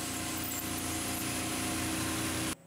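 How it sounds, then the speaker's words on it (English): A cordless drill spins a spiral flute quarter-20 tap into metal for a blaster build, a steady whirring motor hum that cuts off abruptly near the end. "In order to tap them, just using a spiral flute quarter 20 tap, just chucked in the drill."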